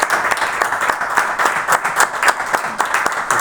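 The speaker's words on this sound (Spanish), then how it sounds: "os pido un fuerte aplauso para..." An audience at a book presentation gives a short burst of loud, dense clapping that holds steady throughout, with no voices over it.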